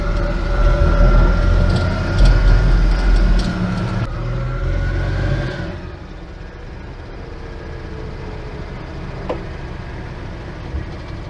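An Invacar, a small single-seat invalid carriage, drives along with a loud, rumbling engine and mechanical rattle that drops to a quieter hum and a faint whine after a gear change or slowing down.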